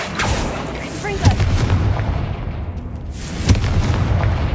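Blasting Confringo spell bursts in Hogwarts Legacy inside a tomb, two sharp booming impacts about two seconds apart over a dense rumbling battle din.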